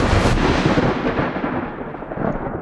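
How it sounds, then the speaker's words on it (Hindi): Thunder in a stormy night around a haunted hospital ward: a loud, sharp crack that rolls straight into a heavy, sustained rumble for nearly three seconds, with no voices. "बिजली कड़कने लगी"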